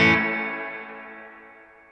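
A single guitar chord through the spring setting of a Boss RV-5 reverb pedal, struck once and decaying smoothly over nearly two seconds with a bright, washy tail.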